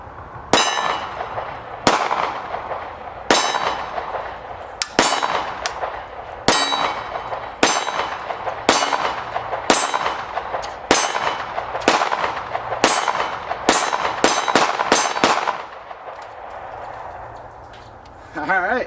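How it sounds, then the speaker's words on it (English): Taurus G3 9mm pistol fires sixteen rounds, 147-grain HST hollow points followed by steel-case Tula ammo, in sharp loud metallic cracks at a steady pace that quickens toward the end before stopping. "So we're basically going to be firing 16 rounds, 5 of the 147 grain HST hollow point, and 11 of the steel case Tula ammo."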